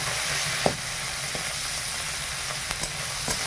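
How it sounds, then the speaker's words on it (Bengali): Shrimp fry in a pan with an even, close hissing sizzle throughout, broken by a few faint clicks of stirring, with no voices. "মোচা চিংড়ির জন্য চিংড়িটা ভেজে নেই, চিংড়িটা ভাজার পর"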